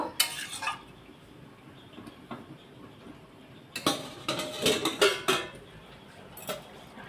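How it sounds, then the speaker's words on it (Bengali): A lid is set over a pot of vegetarian drumstick curry with red potato and pumpkin, giving a few light metallic clinks and knocks, first near the start and then a busier cluster of clatter toward the end. "দেখুন এইভাবে আমি একটু ঢাকা দিয়ে দিলাম"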